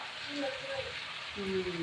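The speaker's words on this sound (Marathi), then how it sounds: "आज लोखंडाच्या कढईत मेथीची भाजी करायची" Fenugreek leaves fry in an iron wok with a steady, fairly quiet sizzle, while voices talk faintly over it.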